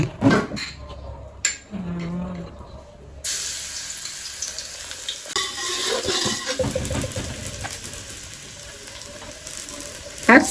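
Garlic hits hot oil in a pan and breaks into loud, close frying that crackles steadily for several seconds, following a few knocks and clatter at the start, with brief speech in between.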